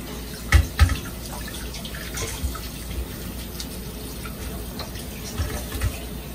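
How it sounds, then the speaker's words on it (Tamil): Tap water poured over vegetables in a sink while cleaning groceries, a steady splashing flow with a few louder thuds as produce is handled, no talking. "எக்ஸ்ட்ராவா தண்ணி ஊத்துறேன்."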